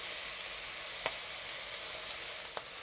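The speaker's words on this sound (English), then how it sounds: "When we have browned the pork, we'll add in 1 tablespoon of oyster sauce, 1 tablespoon of light soy sauce, and 1 tablespoon of dark soy sauce." Browned minced pork fries in a wok with oyster sauce and light and dark soy sauce, giving a soft, steady sizzle broken by two small clicks.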